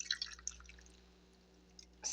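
A small amount of water goes into the bottom of a pot holding a beef pot roast with vegetables, faint brief splashes and drips at the start and again at the end, with quiet in between.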